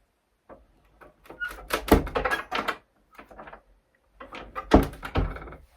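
A door pushed shut over a hanging over-the-door organizer, with a cluster of rubbing knocks and thumps followed by a second firmer bump, close up and fairly quiet with no talking.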